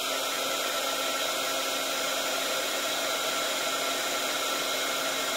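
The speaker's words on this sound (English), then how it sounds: "what I have here is a heat shrink tubing heater, essentially a glorified hairdryer" A heat shrink tubing heater, a hairdryer-like hot air gun, blows steadily at close range, giving an even, loud, hissing whoosh with a constant motor hum and no change or talking throughout.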